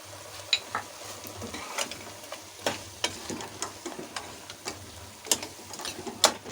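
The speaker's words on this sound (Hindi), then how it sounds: "गोश्त हमारा भुन रहा है।" Mutton and bitter gourd frying in a pan, a close steady sizzle broken by repeated scraping stirs and light clicks of the spoon against the pan, no talking.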